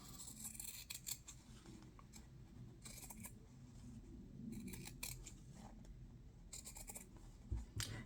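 Scissors snip through fabric in quick, repeated close crunching cuts, a small craft project in progress, with brief pauses between bursts and no talking.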